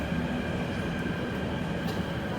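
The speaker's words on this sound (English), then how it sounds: "And that's a C-train." An MTR Kwun Tong Line C-Train runs between Choi Hung and Ho Man Tin, a steady loud rumble of the subway car with no talk over it.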